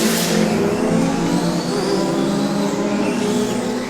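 Tiny electric Mini-Z radio-controlled cars at 1/28 scale run laps on a purpose-built track, their overlapping motor whines forming a constant, fairly loud buzz that rises and falls without a break.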